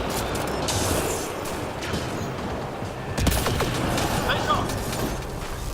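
Dense, continuous gunfire in a Mass Effect 3 multiplayer match, a steady rattling barrage with heavier cracks and impacts around the midpoint, loud and close throughout.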